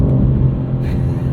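A 2022 BMW M4 Competition xDrive accelerates hard in a straight line, a loud, close engine rumble that builds steadily under open throttle, with no talking.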